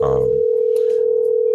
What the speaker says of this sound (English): Please just excuse the calling noise in the back if you hear that.